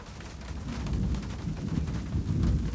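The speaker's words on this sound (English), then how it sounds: "I'll wait for the storm to end before I step out." A thunderstorm in the Syberia video game brings heavy, steady rain with deep rumbling thunder rolling beneath it, loud and continuous with no voices.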